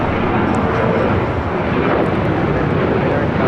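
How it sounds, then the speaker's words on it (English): An American Airlines Boeing 737-800 departs LAX with a loud, dense jet roar, the engine thrust a constant wall of noise for the whole moment. "This is American Airlines 1979 taking off to Chicago O'Hare on a 737-800."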